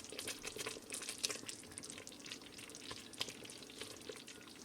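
Apricot mixture kept at a boil in a pan bubbles and sizzles steadily, a dense close crackle of popping bubbles that runs throughout at moderate loudness.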